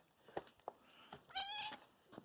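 A cat meows on a farm, one clear drawn-out meow near the middle amid a few soft clicks and handling noises, quiet and close with no talk.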